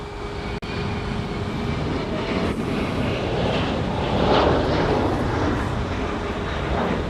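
A C-17 military transport's engines roar steadily at Honolulu airport, a loud, continuous broadband rumble with a slight swell midway, close and sustained with no talk over it.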